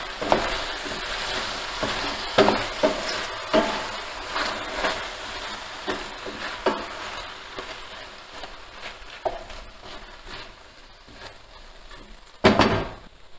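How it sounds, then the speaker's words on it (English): Porcini risotto being stirred in a pan, irregular scraping and knocking of a spoon against the pan over a low sizzle, with a louder clatter near the end. "Stir it."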